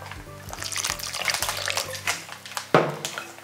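Water poured a little at a time into thick bajji batter for stuffed egg bajji, a close splashing trickle with a few sloshing stirs and a sharp knock near the end.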